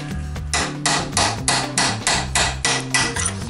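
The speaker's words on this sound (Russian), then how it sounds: "берем колодку, зажимаем ее в тиски и срубаем клепки" A hammer strikes a chisel to cut aluminium rivets off a UAZ brake shoe clamped in a vise, about ten sharp metallic blows in a steady rhythm, close and loud.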